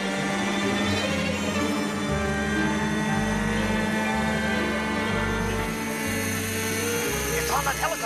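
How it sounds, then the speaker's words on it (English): Helicopter rotor thumping and engine drone run steadily for the whole stretch, loud and close, with a musical score layered over it and voices faintly present. "It's on that helicopter!"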